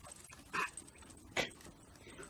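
Puppies give two brief, faint whimpers about a second apart against a quiet background.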